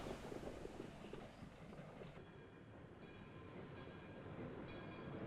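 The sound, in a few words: train in the film High Noon (1952)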